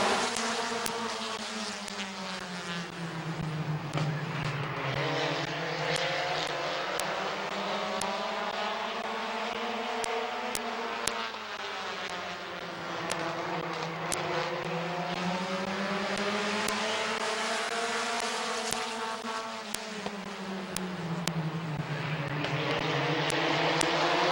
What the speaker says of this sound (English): Green flag heat race number 2 for the Bucky Mowing Compacts.